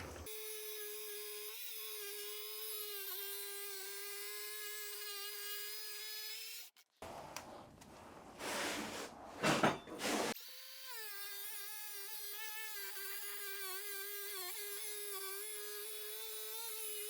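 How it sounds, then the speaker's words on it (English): An angle grinder with its guard removed cuts a small piece of porcelain floor tile freehand, its steady high-pitched whine running loud and close, breaking off for a few seconds of rough scraping and handling noise before the cut resumes. "I took the guard off of my grinder because I need to get this last little 3/4 inch piece cut to the tile"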